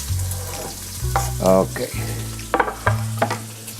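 Ingredients for an asparagus risotto sizzle steadily in a hot pot while being stirred, a close, continuous frying hiss with scraping stir strokes and a brief spoken word over it.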